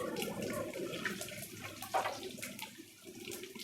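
Cut dried red chillies and dals fry in hot oil in a pan for a spinach stir-fry, giving a close, continuous crackling sizzle that dips slightly near the end.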